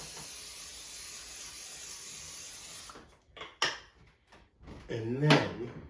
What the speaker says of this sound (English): going to spray it with some oil